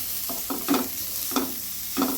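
Grated beetroot being sautéed in a pan for beetroot halwa, with a steady sizzle and several scraping stirs at a regular rhythm, close and fairly loud.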